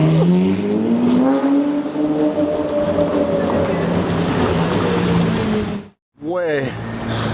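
A straight-piped Lamborghini Murcielago LP640 V12 revs loudly and nearby, its roaring tone rising and falling for several seconds, cutting out briefly, then climbing sharply again.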